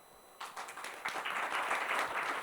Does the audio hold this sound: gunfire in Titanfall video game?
no